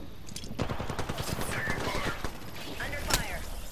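Bursts of rapid automatic gunfire in a shooter video game, dense crackling volleys over game sounds with a voice talking.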